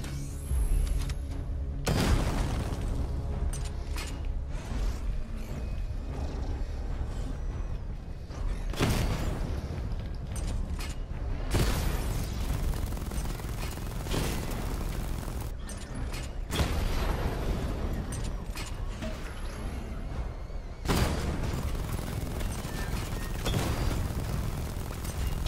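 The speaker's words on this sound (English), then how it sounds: "Destroy targets to charge up weapon energy and activate missile barrage" Weapon fire and a missile barrage in Batman: Arkham Knight, with repeated heavy booming blasts and explosive bursts recurring every few seconds over a steady mechanical rumble and hum, loud and close, with no talking.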